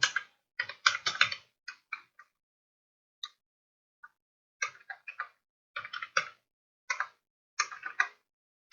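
Someone types on a computer keyboard while writing code, with sparse bursts of crisp key clicks separated by pauses, close and clear without any talking.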